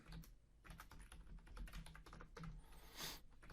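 Keys on a computer keyboard tapped in a quick, uneven run while a password is entered, close and clear with no talking.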